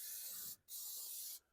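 Fluid Film lubricant sprayed from an aerosol can onto an axle's splines and threads during bearing work, two close, steady hissing bursts with a brief pause between them.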